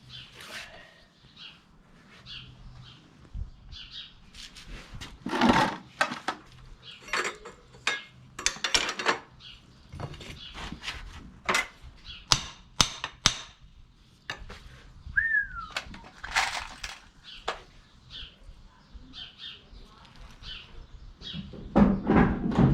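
Sharp metallic hammer strikes drive nails into horseshoes on the hoof of a 17.1-hand Dutch Warmblood eventing horse, sounding as close, irregular clusters of ringing taps with quiet gaps between them.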